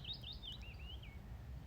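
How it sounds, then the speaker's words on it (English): Soft birdsong in a quiet outdoor setting, a short run of high, rising and falling chirps and trills over a faint low background hum. "the gratitude for being able to hear such beautiful birdsong"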